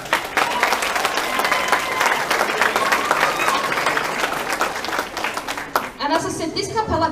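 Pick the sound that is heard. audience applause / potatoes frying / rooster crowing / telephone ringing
audience applause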